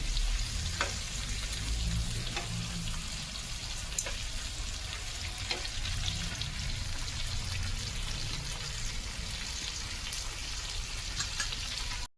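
Tilapia fish fries in a pan with a constant, dense sizzle like steady rain, broken by occasional sharp pops and spits over twelve seconds.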